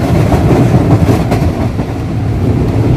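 The Tezgam Express, hauled by locomotive GEU-40-9016, rumbles steadily through Kot Radha Kishan railway station at speed, a loud, continuous roar of wheels and carriages with faint rhythmic clatter, heard from on board with no voices.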